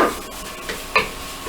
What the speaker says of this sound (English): into the pot, you hear it start to sizzle right away